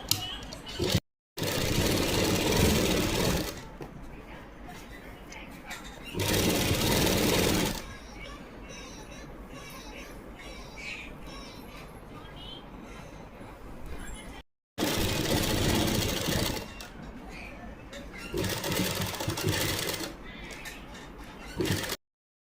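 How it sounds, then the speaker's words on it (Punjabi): Sewing machine stitching lace onto a chunni, with loud bursts of whirring stitching at the start, middle and late on, separated by quieter stretches and short silences where someone talks. "ਇੱਕ ਸਲਾਈ ਇਹਦੇ ਉੱਪਰ ਇਦਾਂ ਸਿੱਧੇ ਪਾਸੇ ਲਗਾਵਾਂਗੇ"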